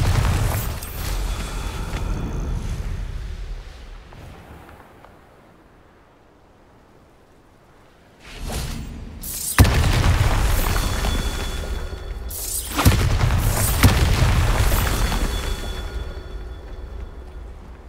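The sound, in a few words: Bombarda spell explosions in the video game Hogwarts Legacy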